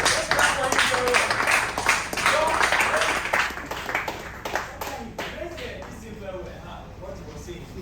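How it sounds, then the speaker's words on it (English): An audience claps for a brother who spoke at a counselling session on addiction, a dense run of handclaps that fades toward the end, with voices talking over it. "let's clap for him very well"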